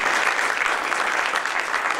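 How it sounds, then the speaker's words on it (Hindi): A crowd at a Hindi poetry gathering (kavi sammelan) gives a warm round of applause for Rishi Raj. The clapping is thick, even and continuous from start to finish, with no talk over it. "तालियां ऋषि राज जी के लिए।"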